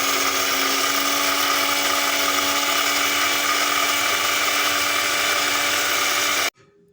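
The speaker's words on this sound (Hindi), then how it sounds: "अच्छी तरह इसको मैंने ग्राइंड कर लिया है" Electric grinder whirring steadily at high speed as spices are ground into a stomach-ache remedy powder, a loud continuous motor drone that cuts off abruptly near the end.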